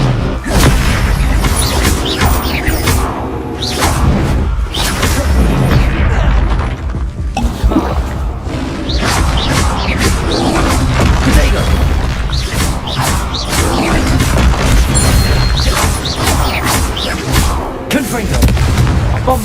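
Repeated booming blasts from the Bombarda explosion spell in Hogwarts Legacy, loud crashing hits recurring throughout amid spell casting, with a voice shouting over the blasts.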